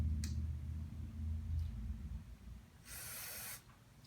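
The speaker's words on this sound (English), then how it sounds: "we hit it with the contact cleaner" Contact cleaner sprays onto a fork nut during a Suzuki RM125 motorcycle fork rebuild, a short close hiss of under a second following quieter handling sounds and low rumble.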